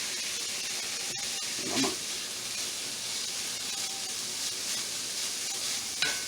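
Sausage sizzles in a hot cast iron pan, a steady broadband hiss with a brief flare of crackle near the middle and a sharp tick at the end, with no talking.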